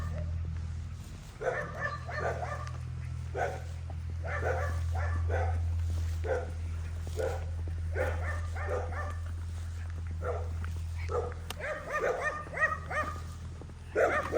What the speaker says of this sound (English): The dog's over there. They're always barking.